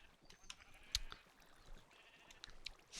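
Sheep bleating in a Minecraft sheep farm, with short quiet bleats spaced across a few seconds over a faint background hum, each call brief and game-like.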